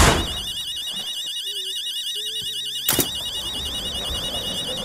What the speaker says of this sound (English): we have to trigger this alarm then